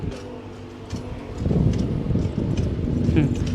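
Hooves of a horse being ridden in a park clip-clop in a loose, steady rhythm at moderate distance, with wind noise on the microphone and people talking over it.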